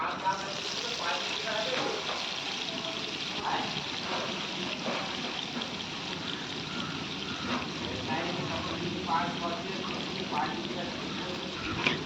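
Paneer pieces frying in oil in a pulao pan, a steady hissing sizzle throughout with soft stirring, while someone talks over it.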